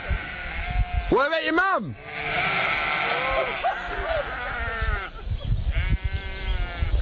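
Sheep bleating in several loud, wavering calls near the start, followed by more bleats blended into a busy mix as people talk over them.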